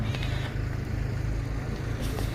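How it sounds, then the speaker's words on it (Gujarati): A tractor's engine drones steadily in a farm field, a close, even low rumble with a regular chug that continues without a break. "આ ટ્રેક્ટર ચાલુ છે, અત્યારે કામ ચાલુ છે ટ્રેક્ટરમાં"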